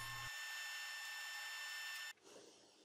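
A bandsaw cuts a wood block for a faceted wooden desk clock, giving a steady, loud, high-pitched whine that stops abruptly near the end and gives way to a lower, rougher rumble.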